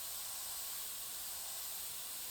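An airbrush sprays acrylic paint mixed from paste as a steady, faint, even hiss with no breaks.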